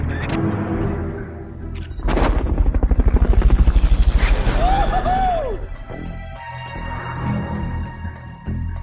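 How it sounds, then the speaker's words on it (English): A Fulton recovery helicopter in Metal Gear Solid: Peace Walker roars loudly with fast, pulsing rotor chop that swells, then settles into a steady engine drone alongside game effects. "Subject confirmed onboard helicopter."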